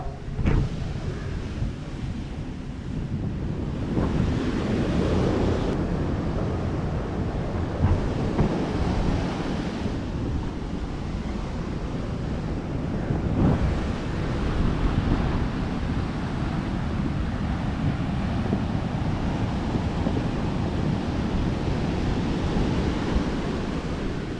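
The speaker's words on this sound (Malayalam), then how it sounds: "വീടിൻ്റെ ഉള്ളിൽ നിന്നുള്ള കാഴ്ചയാണ് ഈ കാണുന്നത് കടലിൻ്റെ കാഴ്ച" Heavy sea waves pounding the shore during a strong coastal sea surge, reaching homes, heard as a continuous loud roar with repeated surging crashes over about twenty-four seconds, no speech.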